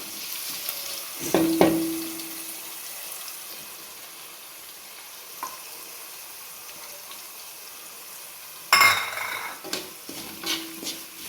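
Chili powder and pickle powder hitting hot oil in a pan for a vegetarian pickle, giving a brief sizzle burst, a quiet stretch of low frying, then another loud hiss with stirring clatter.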